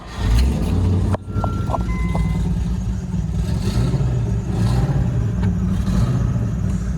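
A manual Land Rover Discovery 1 that sat unused for over a year turns over and catches, settling into a loud, steady, rough idle close by, with a few short electronic beeps early on.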